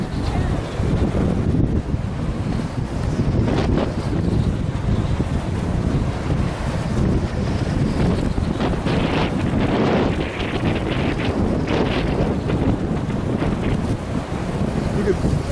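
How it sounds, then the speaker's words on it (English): Strong wind blows steadily near giant windmills in Texas, a loud, continuous roar buffeting the microphone with no break and no clear talk. "Feel the wind coming off."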